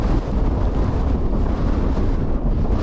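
Strong wind roars over a cold, open fell in the Northern Pennines, buffeting the microphone with a loud, continuous rumble that never lets up, and no voices can be heard.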